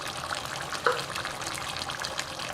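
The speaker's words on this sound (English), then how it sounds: "I'm going to give them a little bit of a strain" Water strained off soaked black beans for a chili, a soft continuous trickle and gush of draining liquid at moderate distance, fairly quiet with no talking.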